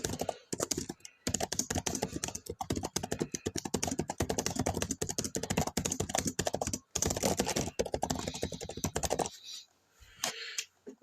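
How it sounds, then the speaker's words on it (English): Typing on a computer keyboard fills the clip, with fast, dense clicking of keys close up, a few brief pauses, then slowing to scattered taps near the end. "Let me type something."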